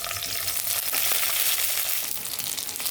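Mustard seeds, cumin and chana dal sputter in hot oil in a kadai as a tempering for poha upma, making a dense, continuous crackling sizzle close by with a few stirring scrapes.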